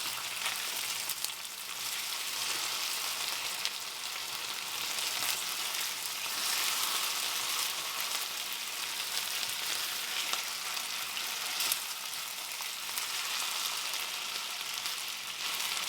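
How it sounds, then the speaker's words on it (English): Potatoes fry in a pan and are turned with a spatula, a dense, continuous close-up sizzle with occasional scraping stirs and no talking. "we've been frying our potatoes about 4 or 5 minutes"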